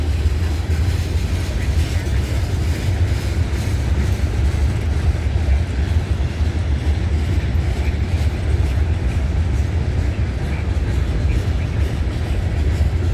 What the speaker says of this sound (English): I think this train might be the M321 if it's late.